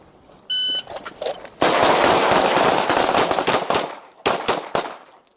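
On a pistol shooting course, sharp gunshots crack in quick bursts and single reports, close and loud. A short electronic beep comes before them, and brief gaps fall between the strings of fire.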